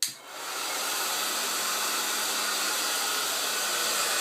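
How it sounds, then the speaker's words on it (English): A hair dryer runs after a bulldog's bath, switching on at the start and then blowing as a loud, steady, close whooshing roar. "Does not like the hairdryer."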